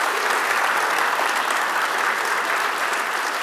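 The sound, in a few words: audience applause after conference talk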